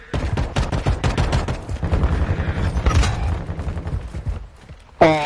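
Rapid, close automatic gunfire in the Warzone video game rattles in dense pulsing bursts, ending in a sharp, loud crack.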